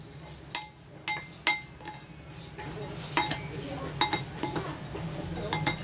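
Utensils clinking and scraping against a bowl while stirring chili, spring onion, salt and pepper for a stuffed milkfish dish, with sharp irregular taps and a steady scrape underneath.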